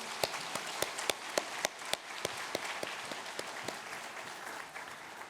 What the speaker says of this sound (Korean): 우리 좌우에 있는 자녀들 축복하며 한번 박수로 응원하겠습니다